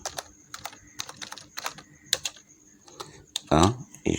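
Quick bursts of keystrokes on a computer keyboard in irregular clusters, fairly close, with a brief louder thump and scrape near the end and no speech.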